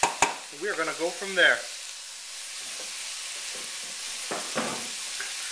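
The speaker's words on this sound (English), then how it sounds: "Alright, this is all cooking up, looking real good" A smoky mixture of mixed flavorings cooks down in a pan with a steady, close sizzle and frying hiss, after a brief stretch of talking at the start.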